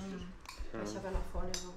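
Dishes and cutlery clink and clatter as a dishwasher is emptied, several sharp close knocks of crockery and glass in quick succession.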